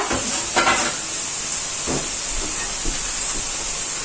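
Onions sizzling in a frying pan for a mushroom turnover filling, a steady hissing sizzle punctuated by a few short bursts of louder spattering.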